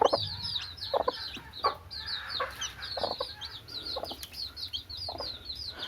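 A Kairali hen clucks softly while her newly hatched chicks cheep in a steady high chatter, a busy close-range poultry scene with no talking.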